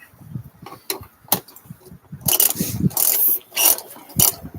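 A pool filter band clamp being tightened with a tool, giving a run of sharp metallic ratchet clicks, some isolated and some in quick bursts, close by and fairly loud with no talk.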